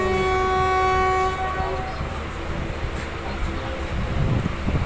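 The KSR Kannur Express with LHB coaches sounds a long horn blast at the start, then its wheels rumble and clatter steadily along the track, heard loud and close from on board.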